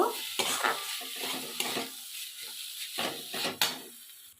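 A spatula stirs washed moong dal through hot oil in a pan, producing loud close scraping strokes in irregular bursts over a soft sizzle, with no talking.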